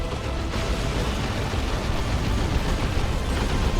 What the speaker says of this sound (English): That was just a regular D-cannon shot. That wasn't a singularity